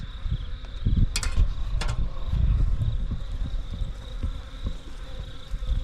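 A dense, steady hum of many bees buzzing close by in a pillar, with a couple of brief clicks or rustles near the start.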